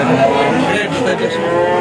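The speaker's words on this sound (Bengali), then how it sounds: "এটা হলিস্টাইন ফ্রিজিয়ান গরু" A single close, loud moo from a Holstein Friesian cow, a low drawn-out bellow lasting almost two seconds.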